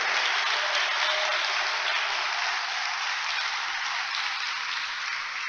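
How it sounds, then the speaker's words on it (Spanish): A church congregation gives a welcoming round of applause during a sermon, a sustained, even wash of many hands clapping that carries on without pause and fades only slightly toward the end. "Por eso le damos un aplauso de bienvenida"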